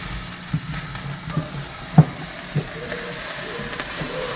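Onions frying in a pan for a green bean casserole, giving a steady low sizzle with a few soft scraping stirs spaced through it.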